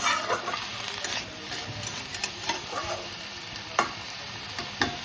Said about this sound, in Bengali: এগুলো সব আমি ভেজে নিচ্ছি